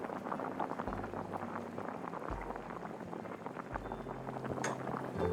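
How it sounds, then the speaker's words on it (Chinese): Vegetarian soup with pickled peppers and lion's mane mushrooms boils in a pot, a steady bubbling and gurgling simmer heard close and alone, with a few low thuds from the pot. "那我们的汤也滚了半个小时了，可以开锅了"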